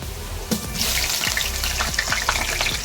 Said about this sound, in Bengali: আমি আলুটা আগে ভেজে নিচ্ছি।